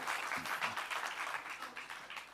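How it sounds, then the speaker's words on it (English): Audience applause in a hall at a sustainability quiz finale, dense steady clapping from many hands sustained throughout, fairly loud and close. "can I hear a nice round of applause for Vasanthi, please?"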